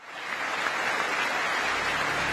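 Sustained applause for PM Modi's speech from a large audience of lawmakers, dense steady clapping that swells slightly and holds at full strength throughout.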